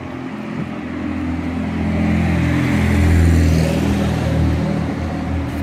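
Street traffic with cars passing close by: a continuous low engine rumble that swells as a vehicle approaches around the middle and then eases away, with no voices over it.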